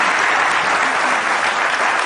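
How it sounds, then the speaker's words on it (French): An audience claps loudly and continuously for Arafat, a thick, close wall of hands that holds at full strength with no break. "Moi, j'ai envie de dire applaudissez à Arafat,"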